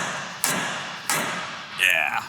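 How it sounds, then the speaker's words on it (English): Two sharp metallic knocks spaced about half a second apart, a hammer striking a tie rod nut on a Jeep Wrangler, followed by a brief higher ringing scrape. "Since we're replacing it, we can hit it with a hammer."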